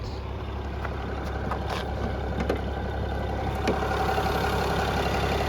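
A 2005 Mercedes-Benz E320 CDI with an inline-six diesel idles in a steady, smooth low rumble, with faint clicks and ticks over it and no talking.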